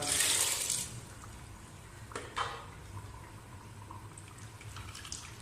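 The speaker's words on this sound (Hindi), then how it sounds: "जिस पानी में मैंने चने उबाले थे, 1 गिलास बचा था, वो भी मैं शामिल कर दूंगा।" Water left from boiling chickpeas is poured from a glass into a pot of Lahori chickpea and chicken curry, giving a soft, brief splash and trickle at the start that fades into quiet simmering, with a couple of faint clinks later.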